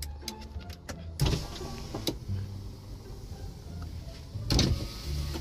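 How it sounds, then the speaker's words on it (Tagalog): Electric power window motor on a 2010 Honda City, a steady mid-level whirr running from about one second in and ending with a brief clunk as the glass stops, inside a parked car with the engine off. "buksan muna natin yung bintana"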